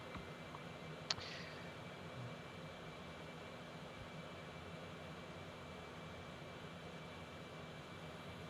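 Concorde thrust reversers in the X-Plane 11 flight simulator produce a steady, loud, continuous roar throughout, with one sharp click near the start.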